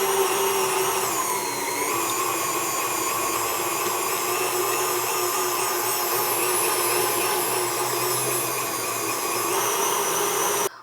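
An electric mixer whirs steadily at medium-high speed while beating butter and sugar for a red velvet cake batter, a loud, close, continuous motor drone with no talking.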